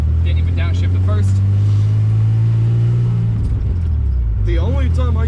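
A 1988 Chevy S10 pickup with a five-speed manual gearbox drives with a loud, steady engine drone that drops away as the driver shifts, then picks back up, while someone talks over it.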